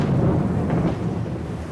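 Thunder rumbles low and heavy during an unseasonal tropical storm at Salalah, a sustained deep roll that fades slightly toward the end, with no speech.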